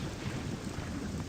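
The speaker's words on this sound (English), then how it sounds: "I won't make you listen to this terrible rain" Steady rainfall in the game Morrowind, a dense, even hiss with a low rumbling wash underneath, constant and fairly loud for a brief moment with no voices.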